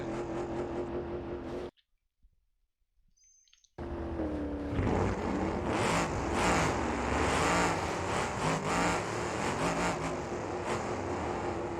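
A stock 1980s car in a BeamNG derby runs on a track with AI opponents, its engine loud and steady with revving swells, broken by a brief silent gap near the start.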